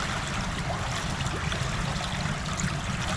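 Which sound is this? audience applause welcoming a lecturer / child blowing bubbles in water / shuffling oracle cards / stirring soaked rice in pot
child blowing bubbles in water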